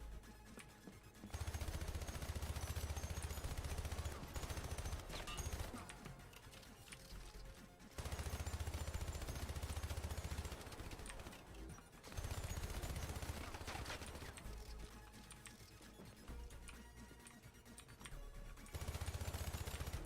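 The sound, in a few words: gunfire from a first-person shooter video game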